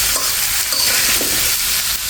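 Snakehead fish with potatoes and spices being stir-fried in a pan, a close, loud, continuous sizzle with soft stirring scrapes throughout.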